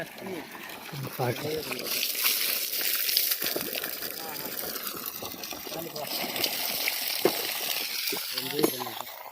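Water gushing and splashing steadily from the outlet of a 3 hp Versil solar pump, with people talking over the rushing flow throughout.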